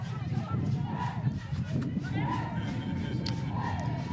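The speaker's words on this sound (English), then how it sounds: "You can see the Zimbabwean girls there cheering for their..." Spectators at a women's under-20 football match between Botswana and Zimbabwe cheer and call out in a continuous crowd roar, with a commentator talking over it.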